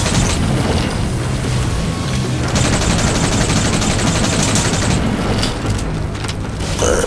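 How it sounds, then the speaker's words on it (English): Sustained automatic gunfire in the Metal Gear Solid V: The Phantom Pain video game: a loud, dense, unbroken rattle of shots with mechanical clatter running through the whole stretch, with no pauses between bursts. "now we're gonna try to shoot them all down"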